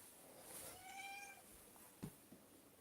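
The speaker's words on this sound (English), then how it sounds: "Here's the other cat, by the way." A black cat meows for food, one drawn-out meow followed by a shorter one, close and fairly quiet over a faint background hiss, with no talking.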